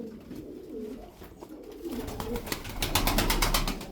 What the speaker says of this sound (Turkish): Kanat sesi harika, muntazam.